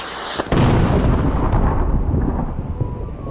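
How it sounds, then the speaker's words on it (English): A loud explosive arrow blast in the video game Dreamfall, a sudden boom followed by a long rumbling roar that slowly fades over several seconds, heard alone. "That wasn't fireworks, that was explodey arrow of justice."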